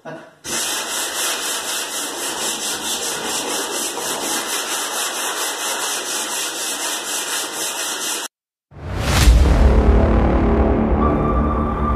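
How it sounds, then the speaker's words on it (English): Steady, continuous abrasive sanding on the metal body of a 1959 Chevy Apache truck, loud and unbroken for several seconds, then a brief stop and a harsher, heavier grinding-like rub resumes. "so now it's like a lot of sanding"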